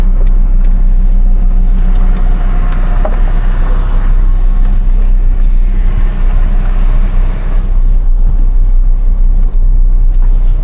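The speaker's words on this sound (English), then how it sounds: "It sounds like it's probably got something rubbing" A car engine drones steadily up close with a constant low rumble and a faint scraping rub underneath from something rubbing on the belt, no voices.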